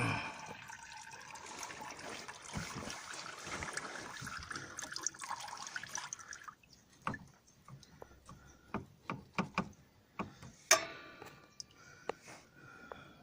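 Fluid drains and trickles from a Peugeot Citroen 2.2 HDI engine during a timing belt job, a steady pour for about six seconds, then scattered drips and splashes that fade to faint trickling.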